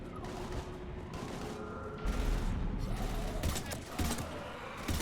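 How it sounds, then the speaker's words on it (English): Sustained gunfire in a Mass Effect Legendary Edition battle, with dense overlapping shots and booms over rumbling game noise. Voices are heard in the mix. "We're taking heavy fire."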